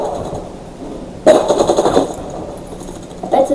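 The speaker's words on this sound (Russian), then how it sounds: "Потому что это пулемет." Machine-gun fire in the online shooter game Contra Wars: a near, loud burst of rapid automatic shots lasting under a second, then a short second burst after a quiet pause.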